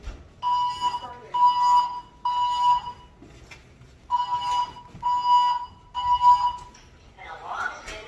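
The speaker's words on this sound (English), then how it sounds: "The alarm's going off." A building fire alarm sounds in repeated loud electronic beeping bursts, three in a row, a pause, then three more, with an evacuation announcement and other voices in between.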